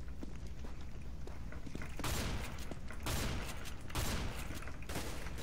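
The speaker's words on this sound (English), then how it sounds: "Officer, do not discharge your weapon like that." Gunfire from a weapon in CS:GO, several heavy, loud blasts spaced about a second apart over a constant background roar.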